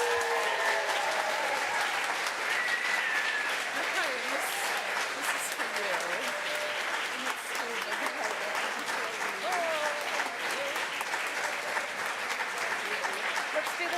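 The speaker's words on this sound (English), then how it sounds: "please join me in welcoming Via to worship and giving her a big round of applause" A congregation at a Sunday worship celebration applauds steadily and warmly, a dense, even wash of clapping from a large group filling the room, with voices and cheers mixed in.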